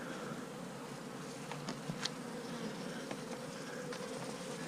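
Bees buzz inside a homemade bee vacuum box, a dense, steady droning hum that runs throughout with slight swells and a few sharper flutters, heard close and with no talking.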